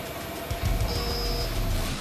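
A large industrial washing machine in a laundry plant for bedding and towels runs with a loud, dense mechanical rumble and clatter, with a thin high whine briefly rising over the steady drone.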